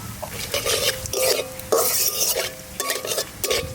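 Bay leaf, dried red chilli and cumin crackle in hot oil for a village-style fish curry, a close, steady sizzle broken by repeated scraping stirs of the pan.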